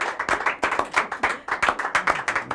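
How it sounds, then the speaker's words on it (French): Close, sharp hand claps from a small studio audience ring out in a quick, fairly regular rhythm, each clap distinct and loud. "nous allons applaudir"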